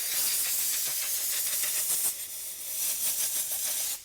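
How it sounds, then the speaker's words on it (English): Continuous, loud, close hiss of compressed air or a pressure washer blowing grit off rubber car floor mats, with slight surges in strength throughout. "you can either take compressed air or a pressure washer and blow off all the loose"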